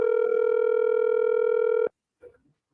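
A telephone ringback tone on an unanswered call during a radio broadcast, one steady tone of nearly two seconds, then it cuts off and a faint voice briefly follows.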